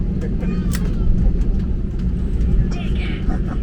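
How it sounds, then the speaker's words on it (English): Pegasus Airbus A320neo taxiing to the apron on taxiway Delta, heard from inside the cabin as a steady low engine rumble and hum with faint higher whines, continuous and moderately loud throughout. "Started taxiing to the apron via taxiway Delta."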